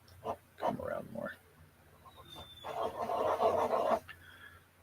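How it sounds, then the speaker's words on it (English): Dog shut in its kennel, heard in the background with bursts of grunting, whining vocalizations and panting that rise and fall several times, with no clear barks. "My dog is just losing his crap."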